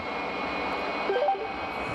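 Airliner jet engines during an emergency landing approach at Heathrow, one engine faulty, power being increased; a steady broad engine roar with a faint high whine, fairly distant, with a brief chirping sound in the middle.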